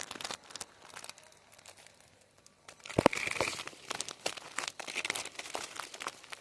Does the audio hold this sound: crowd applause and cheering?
no